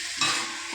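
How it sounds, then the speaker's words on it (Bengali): Meat sizzles in a pan as it is sautéed, a short close burst of frying hiss with a stirring scrape. "তো দেখো মাংস কষাচ্ছি"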